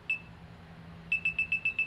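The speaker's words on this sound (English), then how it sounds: "it'll count down. You can hear beeping" Zhiyun Smooth X smartphone gimbal in gesture mode sounds a single short beep, then a rapid countdown of six evenly spaced electronic beeps, close and clear with no talking.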